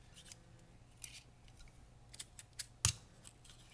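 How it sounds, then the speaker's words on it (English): A 3/4 inch circle punch snaps down through decorative Designer Series paper label stock, giving one sharp, close click near the end, preceded by a few soft paper rustles in a quiet room. "with the 3/4 inch circle punch, we're going to come down on our decorative label piece"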